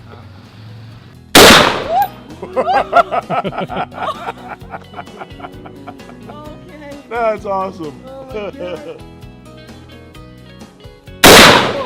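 Two loud, sharp gunshots fired at shooting targets, one early and one at the very end, with people chatting and laughing in between.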